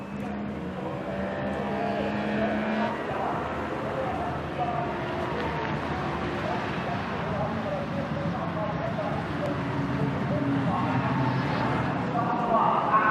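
Race cars at the 24h Nürburgring Nordschleife, including a lead car charging clear of the field on a wet track, their engines a steady, distant roar beneath continuous commentary.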